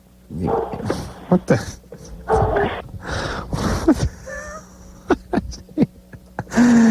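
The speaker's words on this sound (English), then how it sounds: "You can hear it barking in the background." A Rottweiler whimpers and yips near the mic, with a few sharp barks, and someone briefly speaks over it.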